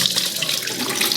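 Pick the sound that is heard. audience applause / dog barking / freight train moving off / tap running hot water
tap running hot water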